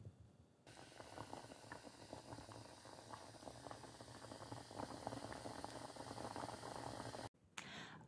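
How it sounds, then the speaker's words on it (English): Prunes stewing in a pot of boiling water give a steady, close, rolling bubble that keeps up unbroken for several seconds before cutting off abruptly. "I need to put some water on these prunes, and then I'm just gonna let them stew for a little while"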